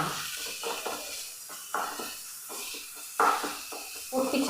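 Beaten egg sizzles and is stirred into chicken samosa filling in a frying pan, with soft scraping strokes and hissing that rise in short bursts toward the end.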